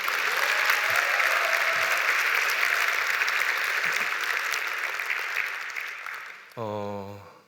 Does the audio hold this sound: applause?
yes